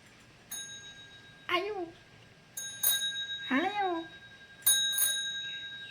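Bicycle bell rung on a child's bicycle, four bright metallic rings spaced about a second apart, close and clear, with a voice sounding between the rings.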